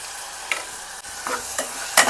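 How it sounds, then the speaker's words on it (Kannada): A spoon stirs chopped tomato, turmeric and salt in a hot pan for a radish fry. Several short scraping strokes repeat over a steady, loud sizzle, heard close up with no speech. "ಸ್ವಲ್ಪ ಎಲ್ಲ ಮಿಕ್ಸ್ ಮಾಡ್ಕೊಳ್ಳೋಣ"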